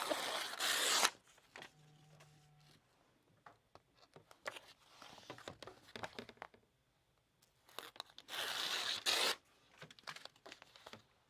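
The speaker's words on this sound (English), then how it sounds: "I know you can't see her, but she's just peeling." Backing paper being peeled from craft material, with long tearing, crinkling runs that come in loud bursts at the start and near the end, broken by quieter rustles and soft handling noises and pauses.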